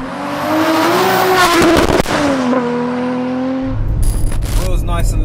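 An 844bhp Toyota Supra revving hard on the move, the engine note climbing through rising pitch sweeps, dipping at a gear change and climbing again before settling, loud and close inside the car.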